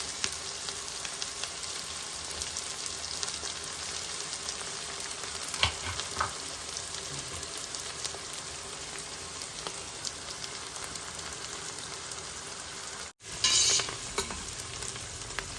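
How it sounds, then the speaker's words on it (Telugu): Onions frying in oil for sweet corn biryani, a steady close crackling sizzle with occasional stirring scrapes, a brief dropout near the end, then the sizzle carries on. "మన ఉల్లిపాయలు మంచిగా ఎగుతున్నాయి కదా"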